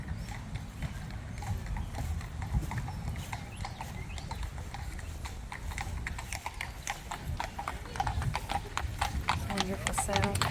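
Horses clip-clopping along a historic colonial street with foot traffic only, hooves striking in steady repeated beats at moderate distance under continuous outdoor ambience and talk, with an occasional faint whinny.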